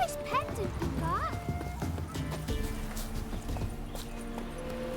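Roach the horse gallops in The Witcher 3, a steady rhythm of hoof clip-clops running throughout with a brief whinny near the start, all under someone talking.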